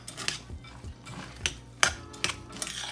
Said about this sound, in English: So I'm going to stir all this up